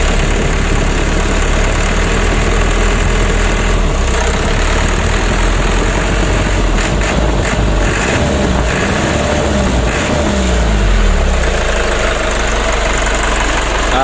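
A Mitsubishi Ragasa 120 PS truck engine with a misfire and cabin shake, running loud and close with gentle revving, a rough steady rumble with uneven knocking throughout and no talk.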